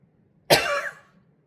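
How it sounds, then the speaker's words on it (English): A single short, abrupt throat clear or cough from one person, close and distinct, lasting about half a second in an otherwise quiet room. "I'm clearing my throat"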